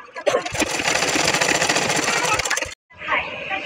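A sewing machine top-stitching the upper panel of a garment made from a dupatta whirs in a fast, steady run for over two seconds, stops briefly, then starts again, with someone speaking over it.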